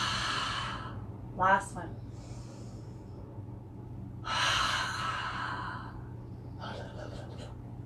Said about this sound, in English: we're going to take 3 open mouth exhales here